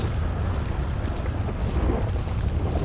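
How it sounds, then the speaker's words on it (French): Steady rain with gusting wind in GTA V, a dense continuous wash of rainfall and low rumbling gusts filling the scene at even loudness throughout, with no talking. "il s'est mis à pleuvoir"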